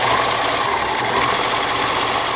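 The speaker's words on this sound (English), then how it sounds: "applying these with a standard sewing machine and no cover stitch" A standard sewing machine basting knit binding onto a racerback tank top runs in a fast, steady, close-up whir with rapid needle chatter, alone and unbroken.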